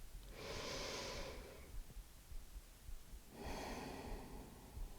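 Two slow, soft breaths drawn through the nostrils during a morning yoga session, each a gentle airy hiss lasting about a second, separated by quiet.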